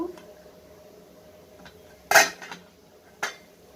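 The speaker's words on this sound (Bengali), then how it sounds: "ঢাকাটা ঠিক হচ্ছে না আর একটু আমি অন্য ঢাকা দিই" A lid is set down on a steaming pot on a gas stove and then shifted into place, making two sharp metallic clanks about a second apart against a quiet, faint background hum.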